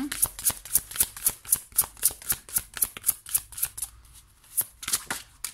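Oracle cards being shuffled by hand in a steady run of crisp, riffling flicks, close and fairly loud, with a brief lull near the end before the shuffling picks up again.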